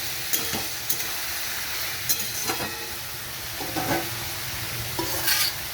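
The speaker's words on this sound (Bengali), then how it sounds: "এবার নেড়ে চেড়ে চাপা দিয়ে দেবো সিদ্ধ হওয়ার জন্য।" Watermelon curry with turmeric powder and two green chillies being stirred in a pan, scraping strokes landing roughly once a second over a continuous sizzle, with no talking.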